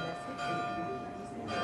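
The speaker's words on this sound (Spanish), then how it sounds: "¿no crees que ha entrado alguien en el campanario y se ha puesto a hacer el tonto con las campanas?" Church bells ring in a bell tower, their sustained, overlapping metallic tones sounding steady and moderately loud throughout with no voices.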